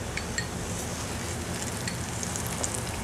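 Eggplant and chopped garlic fry in a pan with a steady, close crackling sizzle, small pops scattered through the continuous hiss and no voices.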